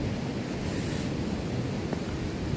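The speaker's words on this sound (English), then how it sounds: "Again, there's the Pacific Ocean" Pacific Ocean waves wash onto the beach of a small bay at Huacho, Peru, a continuous broadband roar mixed with wind buffeting the microphone, close and steady throughout.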